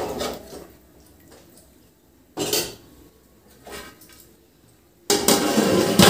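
A plate set over a pot of chicken dum biryani makes a sharp clatter, followed by softer scrapes and a longer clattering rustle of kitchenware at the end, close and fairly loud.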